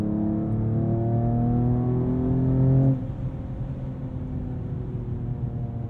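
A sports car engine in Sport Plus mode revs up in a rising, harmonic-rich drone before a quick upshift drops the pitch, then the engine pulls on in a steady lower rumble.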